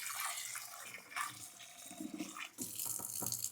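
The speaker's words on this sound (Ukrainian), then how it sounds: "Ну, тепер зараз змию, звісно, і залию новою водою." Tap water runs and splashes into a pot of soaked dried peas as they are rinsed, a steady close rush with brief swirling breaks and no talking.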